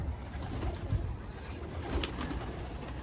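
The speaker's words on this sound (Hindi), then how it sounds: "तो भाई ये अपने कबूतर हैं" Soft, low pigeon coos repeat gently in the background, faint and steady, with occasional light rustles and no talking.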